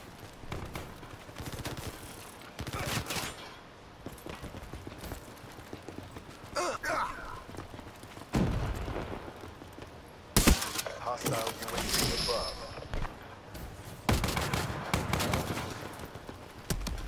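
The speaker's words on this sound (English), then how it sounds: "I'm using a shotgun" Shotgun fire in a Call of Duty match comes as scattered loud, sharp blasts spaced several seconds apart amid other game noise, while a person talks over much of it.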